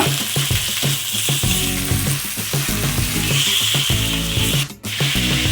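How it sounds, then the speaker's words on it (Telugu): Tomatoes fry in about two spoons of oil in a pan: a loud continuous sizzle over a rhythmic run of stirring clicks and scrapes, with a brief dip near the end. "ఈ టమాటోస్ ని ఫ్రై చేసుకోవాలి"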